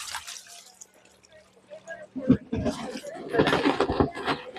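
Water poured for chickens in cold winter weather, dripping and splashing into a container in short bursts, getting louder toward the end, with a person talking alongside.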